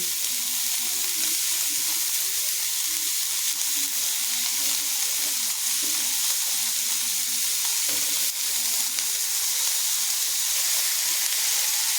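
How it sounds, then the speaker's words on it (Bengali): Capsicum and chopped onion lightly fried and stirred in a pan for upma, a continuous close sizzle and hiss with faint, occasional stirring scrapes, no voices. "দিয়ে এটাকে আমি নাড়াচাড়া করে হালকা ভেজে নেব এরপর এখানে দিয়ে দেবো ক্যাপসিকাম আর দিয়ে দেবো পেঁয়াজ কুচি"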